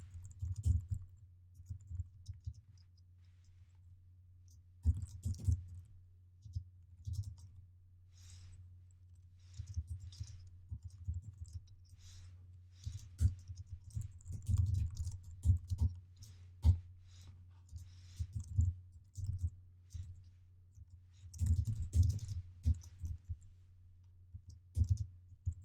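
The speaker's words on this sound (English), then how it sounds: "I'm going to type the following." Code is typed on a computer keyboard in faint, irregular bursts of clicks over a low steady hum, with short pauses between runs of keystrokes and no talking.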